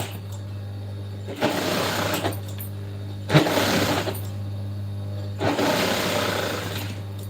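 Sewing machine stitching a blouse, running in three sustained bursts separated by short pauses, with a steady low motor hum throughout and no talking.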